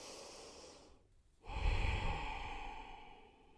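A deep yoga breath close to the microphone: a quiet inhale, a brief pause, then a fuller, louder exhale through the nose that slowly fades, with no talking.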